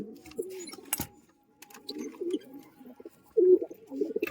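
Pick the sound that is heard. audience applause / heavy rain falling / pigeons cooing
pigeons cooing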